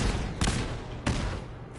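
Gunfire in the Fallout 4 video game, two loud sharp shots about half a second apart over a constant dense roar of combat noise.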